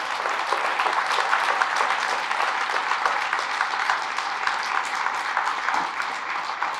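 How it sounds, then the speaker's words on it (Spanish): A church congregation applauds in praise of Jesus during a Catholic priest's sermon, a dense, steady wash of many hands clapping that holds at an even level for several seconds. "Fuertes aplausos al Señor Jesús."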